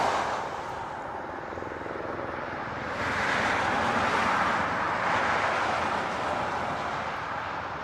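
A KC-135 military tanker flies over Honolulu airport, a loud, steady broadband jet roar that swells midway and holds, continuous for the whole span with no talk.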